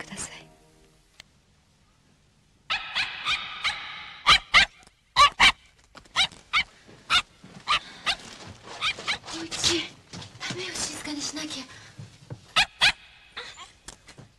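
A dog barks in sharp, loud bursts close by, a series of separate yaps spread across the scene between quieter stretches, with some whining and rustling and a voice talking.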